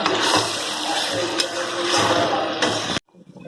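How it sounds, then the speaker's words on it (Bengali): Water hits a pan of cooked-down methi chicken with a loud, close rushing hiss that runs steadily for about three seconds and then cuts off abruptly to near silence. "এখানে আমার চিকেনটা কষা হয়ে গেছে, জল দিয়ে দিয়েছি।"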